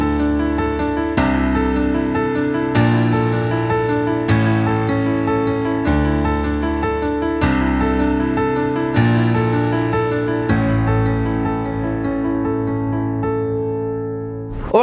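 A keyboard piece played with both hands, with steady repeated chords and a melodic line over them, loud and close, continuing alone for about fifteen seconds with no talking.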